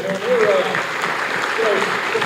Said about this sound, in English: let's give these young kids a round of applause